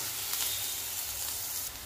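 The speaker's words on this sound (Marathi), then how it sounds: "कांदा छानपैकी आपला भाजत आलेला आहे" Chopped onion sizzles steadily in a hot pan, a soft continuous frying hiss with no voices over it.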